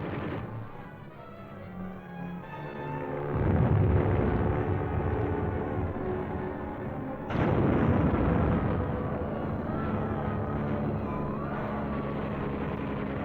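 Aircraft diving on targets, strafing and bombing enemy positions in Korean War combat footage, a continuous low roar with heavy blasts swelling around four and seven seconds, dense and rumbling, with no voices.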